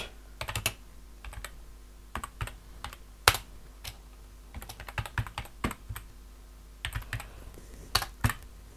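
Typing on a computer keyboard, irregular clusters of crisp key clicks with short pauses between bursts, close but fairly quiet over a faint background hum.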